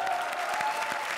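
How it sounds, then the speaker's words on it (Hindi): A short burst of audience applause from a comedy stage show crowd, steady dense clapping throughout with no talking. "तालियां मत बजाना कमबख्तो."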